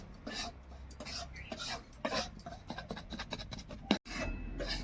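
Semolina is dry-roasted in a pan, with a spoon rasping and scraping through the grains in quick, irregular close strokes and occasional knocks against the metal.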